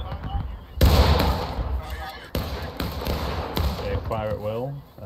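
Musket volleys crack in the War of Rights Civil War shooter, a few sharp distant shots breaking out over a steady din of battle while players talk over team voice chat.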